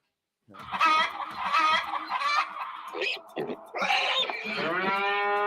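Clucking chickens and a rooster crowing among farm animal calls, close and loud, with a long drawn-out crow at the end.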